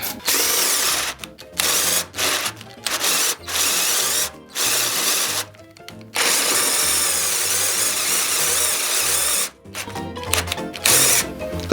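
A Stal cordless screwdriver strains at its maximum torque setting of 35, giving loud repeated bursts of motor whine and ratcheting clutch chatter separated by short silences.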